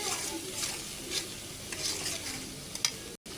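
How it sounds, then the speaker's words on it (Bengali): Chili and turmeric powder being stirred in a frying pan, with a soft ongoing sizzle and scraping strokes of a spoon at a moderate, uneven rhythm, close and fairly quiet. "পরিমাণ মতো মরিচের গুঁড়া, পরিমাণ মতো হলুদের গুঁড়া দিয়ে ভালো করে নেড়ে ছেড়ে নেব"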